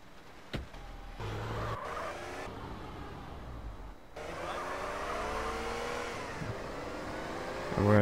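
A car in GTA San Andreas revs and accelerates with engine tones rising and falling, tires squealing and skidding through turns, ending with a loud burst; no talking.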